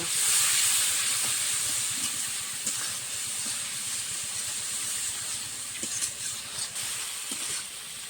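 Turmeric and Kashmiri red chili powder fry with salt in hot oil for a rui fish curry with potatoes. The sizzle is a steady, bright hiss that stays close and continuous, with occasional small crackles.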